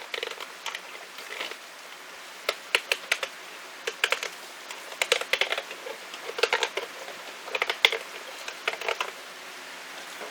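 A plastic bottle being cut apart while building a bottle grow tower, giving irregular bursts of sharp, close crackling clicks and snips separated by brief pauses, with no voices.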